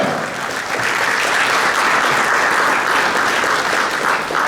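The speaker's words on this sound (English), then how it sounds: "Give them a round of applause." An audience at a 2023 inauguration ceremony in Derby breaks into steady, loud applause, a dense sustained wash of clapping from many hands lasting several seconds without pause.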